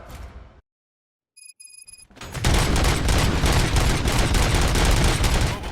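Rapid, sustained gunfire in the RoboCop video game bursts in loud and dense after a brief silence broken by a few electronic tones, continuing as a heavy fusillade to the end.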